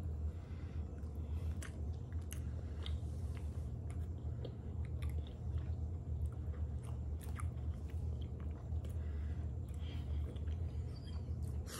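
Someone bites and chews an ice cream cookie close to the microphone: quiet, crunchy bites and soft chewing over a low background hum.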